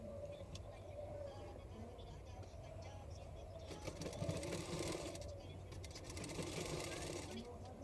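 A sewing machine stitches a blouse sleeve with a half-inch margin, its steady motor whir running at moderate level throughout and growing slightly louder and busier midway, with a voice talking faintly underneath.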